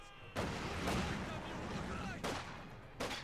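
Rifle grenade and infantry gunfire in the World War II strategy game Company of Heroes 2, with several sharp blasts rising over a constant rumble of battle at about 0.4, 2.3 and 3 seconds.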